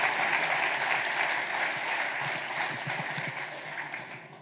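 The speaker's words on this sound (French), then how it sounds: "On peut les applaudir." An audience at a town's New Year greetings ceremony in Cusset applauds two people, dense and steady clapping across the room that eases off slightly toward the end.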